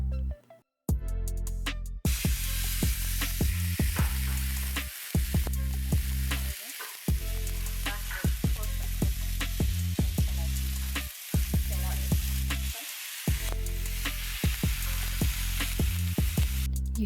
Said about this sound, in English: You hear that? That's the sizzling sound we want.